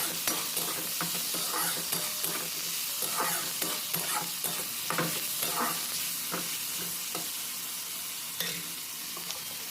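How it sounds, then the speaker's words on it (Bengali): Chopped tomato with ginger-garlic paste stirred in a hot frying pan, a steady, soft sizzle under repeated scraping strokes of a spatula at an even rhythm, no talking. "টমেটোটা দিয়ে একসঙ্গে ভালোভাবে মিক্স করতে হবে"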